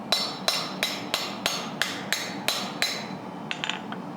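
A hot carbon steel skillet is struck on an anvil with a fullering tool. Eight sharp, ringing hammer blows fall at a steady, even pace, close and clear, then a few lighter taps follow.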